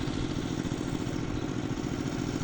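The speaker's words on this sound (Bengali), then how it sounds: "মেশিন দিয়ে সেচ কাজ চালানো হচ্ছে।" Engine of an irrigation pump machine running beside a river, a steady close mid-pitched chugging drone with slight clatter and no change in speed throughout.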